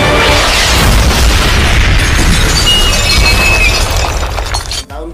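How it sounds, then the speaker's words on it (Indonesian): A loud gunshot impact explosion effect, a dense sustained blast with shattering, glassy debris that roars for several seconds before cutting off abruptly. "tiba-tiba tembakan mendarat tepat di belakang tubuh mereka"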